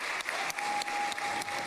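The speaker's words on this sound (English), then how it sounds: "getting a big applause as he walked into the Knesset" Steady applause fills the parliament chamber in Jerusalem as the president walks into the Knesset: a brief, continuous wash of clapping heard at a moderate distance.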